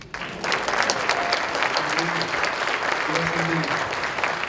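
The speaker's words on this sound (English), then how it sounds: "So how about all of you kids give a round of applause to your parents?" Kids at a school jazz event give their parents a round of applause, steady dense clapping that fills the room, with a few voices talking faintly underneath.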